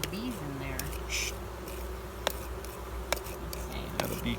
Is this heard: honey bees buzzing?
yes